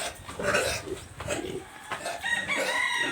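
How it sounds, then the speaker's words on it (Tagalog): Chickens clucking and calling close by, several birds in overlapping bursts with a faint crow-like cry, no talking. "Maraming manok."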